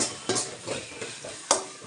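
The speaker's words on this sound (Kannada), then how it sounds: "ಕಡಿಮೆ ಉರಿಯಲ್ಲೇ ಫ್ರೈ ಆಗಬೇಕದು." Ginger paste frying in oil on a low flame for a ridge gourd stir-fry, a faint constant sizzle broken by several stirring scrapes of a spoon against the pan.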